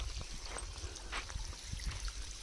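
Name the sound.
irrigation water trickling into banana plant basin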